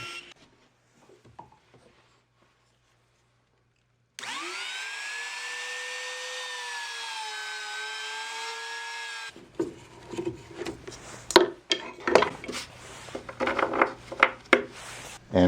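After a few seconds of near silence, a saw motor spins up to a steady high whine for about five seconds while trimming the wooden base of a taper sled, followed by scraping and rubbing noises from handling the wood.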